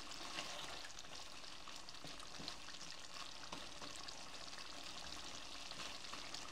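A rohu fish head cooks in a pan over medium heat, sizzling steadily at close range with soft scraping stir sounds scattered throughout.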